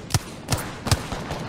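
Gunshots in the Apex Legends video game, three or four sharp, evenly spaced cracks with low thumps, fairly close and punchy, with no talk over them.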